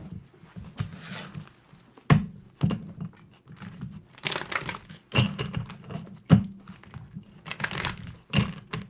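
Close, irregular crunching bites with crisp cracks and rustling in between, like someone chewing crunchy salad near the microphone.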